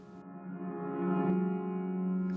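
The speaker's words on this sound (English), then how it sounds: "I've reversed the impulse response and adjusted the dry and wet knobs to my liking." A reversed impulse response in the Convolverb reverb plugin, blended with adjustable dry and wet levels, gives a steady, droning harmonic tone that swells slightly mid-way, with a brief transient near the end and no talking.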